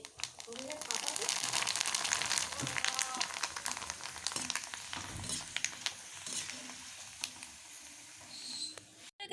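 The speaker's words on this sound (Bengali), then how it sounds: "কড়া বসিয়ে দিয়েছি পাপড় ভাজবো এই যে সব রকম পাপড়গুলোকে নিয়ে নিয়েছি ভাজবো" Assorted papads, including sago papad, fry in oil in a wok, giving a steady bubbling sizzle with crinkly crackles and scattered pops, heard close under intermittent talking.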